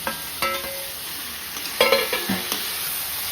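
Onions cooking down in a pan for chicken thokku give a continuous sizzle, with a few sharp clinks and scrapes from stirring up close.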